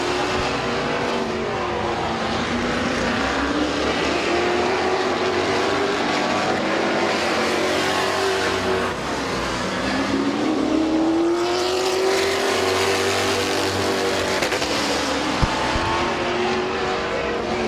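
Race cars circle a dirt speedway at Midvale Speedway in the final half lap, their engines roaring continuously with rising and falling pitch as they pass and sweep through the turns, loud throughout.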